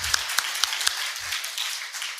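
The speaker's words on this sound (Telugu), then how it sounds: "క్లాప్స్ కొడదాం అందరు కూడా." An audience at a youth Christmas gathering in a hostel claps briefly, a few distinct sharp claps followed by a soft scattered patter of applause.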